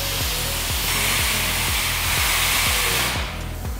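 An electric hydraulic pump with twin motors powers a torque wrench, giving a loud, steady broadband whir with a regular low cyclic pulsing under it; the tone thins slightly near the end.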